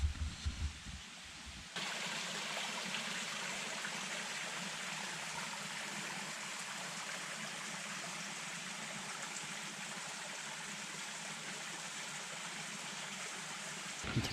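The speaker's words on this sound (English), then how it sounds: "Got the creek next to me." A mountain creek on the Black Mountain ridge in North Carolina flows close by in a quiet, windless setting, a steady broadband rush of water that holds constant throughout after a brief quieter opening.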